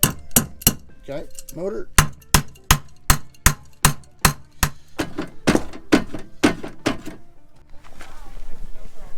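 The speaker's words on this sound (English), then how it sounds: "I think I'll start by pounding on it with a wrench" A wrench pounds on the motor of an abandoned Barth luxury motorhome under restoration: about twenty sharp, loud, close metallic blows in a steady rhythm, with a few brief spoken words in between.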